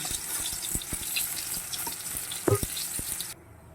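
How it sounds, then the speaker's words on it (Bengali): Aubergine slices fry in oil in a pan with a steady, close sizzling hiss. A few sharp utensil clicks cut through before the sound stops abruptly near the end. "এবার লাল লাল করে বেগুন ভাজাগুলোকে ভেজে তুলে নেব।"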